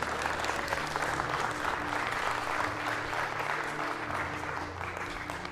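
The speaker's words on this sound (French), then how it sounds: "je veux que vous les applaudissiez tous comme il se doit" An audience at the Eloquentia Bordeaux eloquence contest final applauds the finalists with steady, dense clapping that fills the room from start to finish, with faint crowd murmur underneath.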